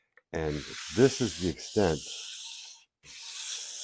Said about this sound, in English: I'm using a block, some 220 grit paper,